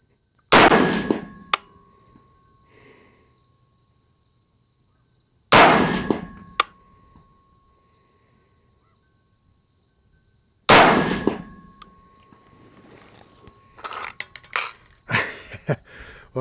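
A Sterling R18 semi-automatic rifle fires three single shots several seconds apart, each a loud sharp crack with a ringing tail. Metallic clinks of brass or the action follow near the end, and a steady high whine runs underneath.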